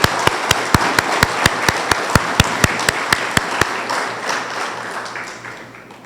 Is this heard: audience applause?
yes